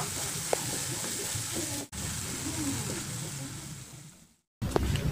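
Vegetable filling for pastel stirred in a hot frying pan, with a steady sizzle and occasional scrape of the spatula, close and continuous, briefly cutting out near the end.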